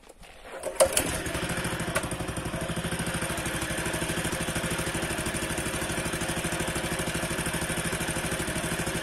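A Yağmur Yet 300 two-wheel walking tractor engine starts and settles into a steady, close chugging run with a fast regular putter, alone in a garden setting.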